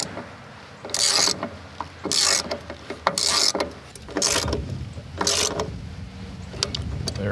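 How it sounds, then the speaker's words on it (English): A hand ratchet fitted with an extension and a screwdriver-bit adapter, tightening a fastener in a new breaker box: repeated bursts of close, loud clicking ratchet strokes, about six sweeps, with brief pauses between them. "a ratchet, extension, and an adapter so I can take the screwdriver bit, stick it in there, and then I can just wrench it down by hand"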